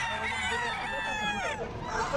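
Chickens and a rooster crow and cluck in a busy pet market, overlapping harmonic calls filling the short stretch, with people talking in the background.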